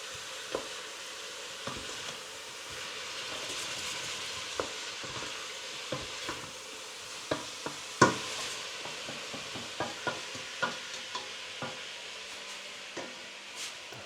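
Onions frying in a pan for a meatless oyster mushroom goulash are stirred, giving a steady soft sizzle broken by scattered scraping and tapping knocks from the spoon against the pan, close and moderately loud.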